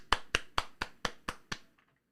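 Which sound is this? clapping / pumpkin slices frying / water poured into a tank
clapping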